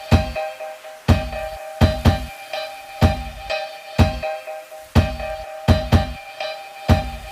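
Sampled piano texture with a percussive hit landing on the same beat each time, a sustained tonal bed punctuated by about a dozen punchy low hits in a steady loop, loud and upfront with no voices.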